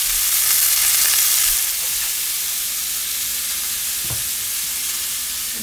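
Steaks seared in a hot pan after flipping, a coffee-rubbed cheap cut, give off a steady, loud broadband sizzle and hiss with faint crackles throughout, alone with no talking.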